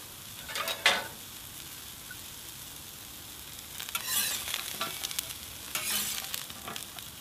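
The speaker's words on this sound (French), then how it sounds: "la pomme de terre douce cuit très rapidement" Sweet potatoes fry on a plancha griddle with a soft, steady sizzle, broken by a few louder crackling spatter bursts near the start and again toward the end; no voices.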